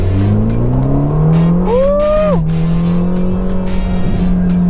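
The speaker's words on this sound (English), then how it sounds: "this Ferrari Roma is capable of some surprising things, because not only does it have supercar performance" A Ferrari Roma sports car accelerates hard, with a loud, steady engine note that climbs through the gears and a short rising whine as it shifts. No voices are heard.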